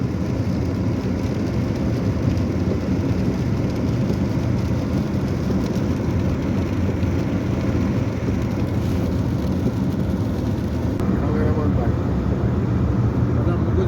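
Rain falls during a car journey on the road toward Eskişehir, a steady dense patter blending with constant road and engine rumble inside the moving car.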